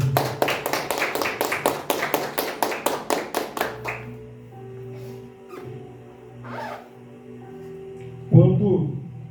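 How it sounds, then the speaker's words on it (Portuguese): A church congregation applauds during a sermon with fast, evenly spaced claps for about four seconds. The clapping stops, and quieter talk and faint room sounds follow. "Você pode aplaudir Jesus por isso?"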